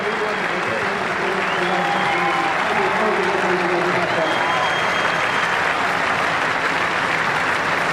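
Loud, sustained applause from a large cricket stadium crowd at a 1999 India versus Pakistan match, with cheering voices mixed into the steady roar throughout.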